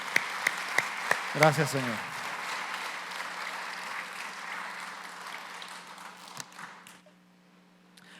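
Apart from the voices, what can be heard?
congregation applause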